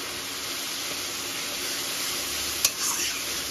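Tomato paste and green chili paste frying in oil for a Bengali rui posto dish, giving a steady, close hissing sizzle with a brief scrape of stirring near the end.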